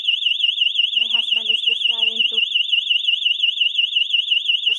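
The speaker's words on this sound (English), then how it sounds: "That's the siren for our alarm system." A home alarm system siren blares with a loud, steady warbling tone throughout, while a person speaks briefly over it near the start.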